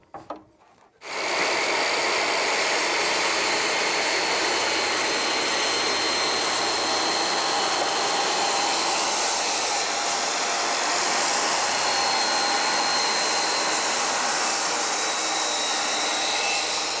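A power saw runs loud and continuous through a wooden plank for a boat's hull below the tuck, one unbroken cut lasting many seconds after a brief knock at the start, with no talk.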